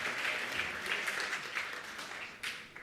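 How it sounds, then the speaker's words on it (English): A conference audience gives a round of applause for the event's sponsors, a steady, dense wash of clapping from a crowd that holds for a few seconds and then tapers off. "I want to have like a round of applause for our sponsors for enabling this conference today"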